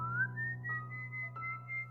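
Eerie whistling meant as the legendary Silbón, a thin sustained whistle repeated in several drawn-out phrases that rise and hold, over a low hum.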